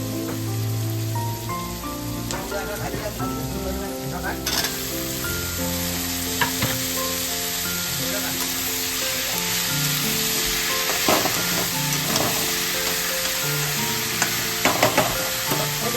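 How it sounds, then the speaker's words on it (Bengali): Raw banana pieces fry in a pan with a splash of water, giving a loud, continuous sizzle with occasional stirring scrapes and no talking. "একটু লাল লাল ভাজা হোক"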